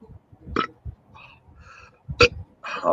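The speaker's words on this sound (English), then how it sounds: "About 4 burps later." Several short burps follow drinks of Trappist Rochefort 10 Belgian beer, throaty bursts spaced irregularly and heard up close.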